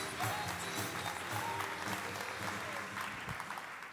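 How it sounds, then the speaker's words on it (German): Audience at a live seminar event applauding, a dense sustained clapping from a crowd filling the room, with a few cheers mixed in. "Applaus!"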